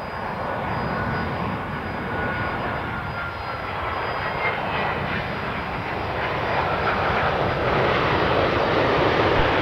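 An Alliance Airlines airliner, registration VH-FKD, departs on runway 03, its jet engines a steady, broad roar that slowly swells louder over about ten seconds, with no talking.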